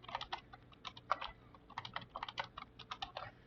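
A password being typed on a computer keyboard: quick irregular clusters of light key clicks, close and fairly quiet, with no voice over them.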